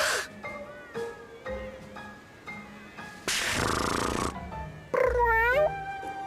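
A cat in the video game Bravely Second meows several times in short, close calls, with a burst of purring-like rough noise and a final drawn-out rising meow.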